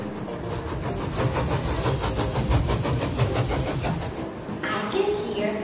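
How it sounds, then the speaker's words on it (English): A train rumbles past steadily with a rhythmic clatter of wheels over the rails, loud and close, with a brief higher squeal near the end. "I can hear the sound of a train."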